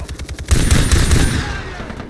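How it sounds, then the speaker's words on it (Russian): Automatic gunfire from the video game Far Cry 3, a rapid burst of close, loud shots with a heavy low thump on each round, fading into echoing decay. "Озвучка стрельбы прям реально крутая"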